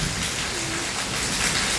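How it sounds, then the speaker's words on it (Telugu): Heavy rain pouring down steadily in a village, a dense, even hiss that fills the whole moment without letting up, close and fairly loud, with no voices over it. "వర్షం బాగా కొడుతుంది."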